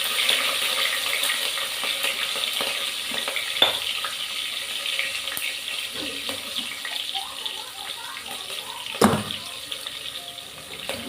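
Chopped ginger and green chili sautéing in a pan with mustard seeds and asafoetida, a steady close hiss and crackle running throughout, with a few sharp clinks of a utensil and one louder knock near the end.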